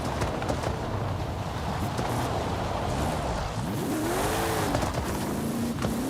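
A car in Forza Horizon 5 roars at high speed with a loud, sustained engine drone, then tires squeal in rising and falling arcs through hard cornering, close and continuous.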